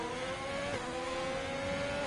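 Race car engine in a Formula One racing video game at the Abu Dhabi circuit, a steady high whine holding pitch with a brief dip midway, continuous and fairly close.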